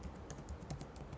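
Quiet, quick tapping of a computer keyboard as code is typed, a rapid irregular run of soft keystrokes with no voices.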